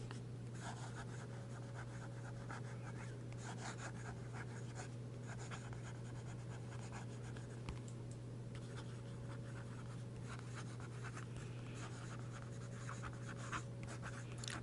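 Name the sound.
fountain pen writing on Rhodia paper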